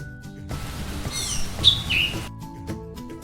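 A bird gives a brief burst of high chirps and tweets lasting about a second, heard over soft background music.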